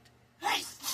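A single sudden sneeze bursting out after a quiet moment, close and fairly loud with a sharp breathy onset and a trailing exhale.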